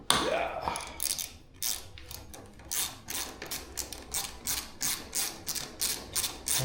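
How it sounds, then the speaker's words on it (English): A bolt is undone on a motorcycle bar end with a ratchet tool, making a close series of rhythmic clicking strokes that repeat steadily for several seconds. "So just about to undo this bolt in here."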